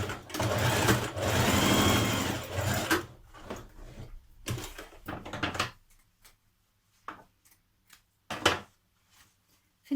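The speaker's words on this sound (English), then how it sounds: "Now you're going to stitch your underarm seam." A sewing machine runs an underarm seam on a dress in one loud, close burst of about three seconds. Scattered soft clicks and handling knocks follow, and the end is mostly quiet.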